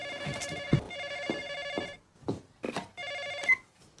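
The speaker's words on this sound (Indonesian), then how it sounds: "mereka justru terkejut manakala telepon tiba-tiba berbunyi." A telephone rings in a film scene, sounding as repeated bursts of an electronic bell tone separated by short pauses, clear and prominent with little else around it.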